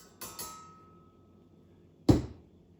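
A used coffee puck is knocked out of a Breville Barista Express portafilter, heard as two light metallic taps, a faint lingering ring, then one loud hard knock, close and alone.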